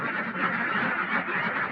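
A flock of large egg-laying farm ducks quacks continuously, a dense overlapping chorus heard fairly close, with no talk.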